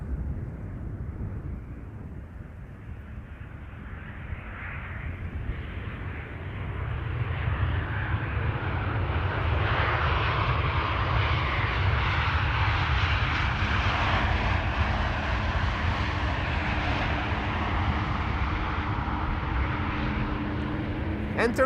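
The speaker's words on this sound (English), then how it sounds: "KLM flight 1930 will be next to land here." A KLM passenger jet comes in to land at Amsterdam Schiphol Airport, its engine roar building from far off to a sustained, moderately loud rumble with a drifting whine. Faint talk sits beneath it.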